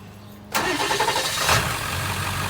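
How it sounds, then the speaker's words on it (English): A Ford 7.3 Powerstroke diesel truck engine with an AIH delete plug installed cranks and catches after a quiet moment, then settles into a loud, rough, clattering idle nearby. "let's go ahead and get the truck started"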